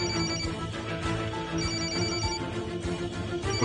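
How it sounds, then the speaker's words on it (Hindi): A telephone rings continuously, a bright warbling electronic ringtone repeating at a steady pace, fairly loud and close with no talking. "डैड का फोन है तो उठा लेना।"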